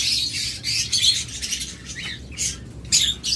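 Lovebirds in a bird shop chirp in repeated sharp bursts, with fluttering wing flaps among the calls, close and fairly loud over a low background hum.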